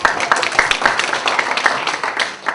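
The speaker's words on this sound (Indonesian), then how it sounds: "tepuk tangan dulu nih." A crowd claps in a dense, steady burst of applause, close and lively, lasting a couple of seconds before thinning slightly.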